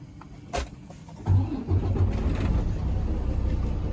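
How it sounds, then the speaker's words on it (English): A truck engine cranks and catches, a brief whirring start followed by a steady close idle rumble, preceded by a few faint clicks. "I'm gonna start the truck."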